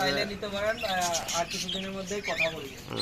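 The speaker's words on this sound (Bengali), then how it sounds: "এখানে তিন পিস টিয়া পাখি আছে" Three pet parakeets kept alongside lovebirds give quick, bright chirps and warbling calls in close, overlapping bursts.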